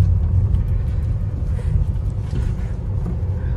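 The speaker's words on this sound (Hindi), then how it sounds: "बट हाँ रोड नॉइस तो है गाड़ी में।" Steady, loud low rumble of road and engine noise fills the cabin of a Tata Altroz diesel hatchback driving through city traffic, continuous and unbroken with no voices.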